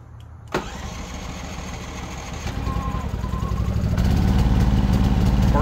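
A Westinghouse iGen4000DFC portable generator running on natural gas cranks and catches after a short sharp pull, then its engine settles into a mid-pitched running drone that swells louder over the last seconds, close and without speech.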